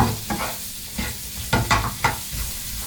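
Peppers, onion and garlic sizzle in a pan on a domestic hob, with a soft constant fry broken by several quick scraping stirs near the end.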